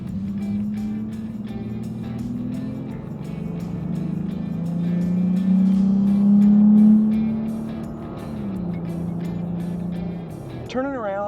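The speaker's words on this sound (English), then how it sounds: "Turning around and revving it out a bit more aggressive than we normally would." Toyota Tacoma with its factory exhaust revved hard while turning around, a loud sustained engine drone that climbs and swells to a peak mid-way, eases off, then drops away at the end, with a voice briefly audible.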